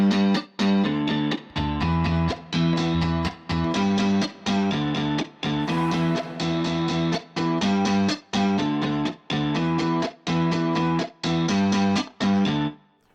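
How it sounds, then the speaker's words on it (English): A trap beat from ujam Beatmaker repeats a steady pattern of chunky, distorted synth and drum hits with a reverb effect, loud and rhythmic, with brief drops between bars and no voices. "What about reverb?"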